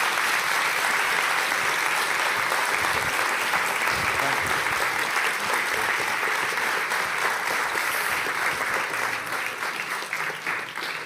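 Sustained applause from a large audience at the 2023 NATO Youth Summit in Brussels, a dense, steady wash of clapping that holds loud for about eleven seconds before easing slightly at the end.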